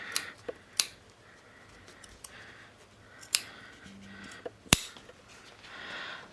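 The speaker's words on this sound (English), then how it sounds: "just gonna cut some of this bulk away with that fly shield there" Scissors trim bulky fabric away at the fly shield of a pair of jeans, making a few sharp, close snips spaced apart over quiet room tone with no speech.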